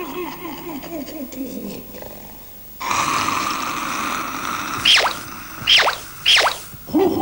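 Two animated giants asleep under a tree snore loudly in slow, rhythmic, exaggerated pulses, followed by a few sharp swishing sounds.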